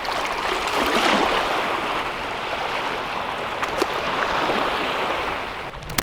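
Dirty, dusty feet are rinsed off in shallow, warm water, a continuous close swishing and splashing wash that swells and eases, without talking.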